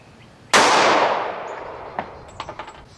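A single sharp pistol shot of .40 Hornady Critical Duty ammunition fired at a gel test block rings out loud and close, followed by a long decaying echo and a few faint clinks.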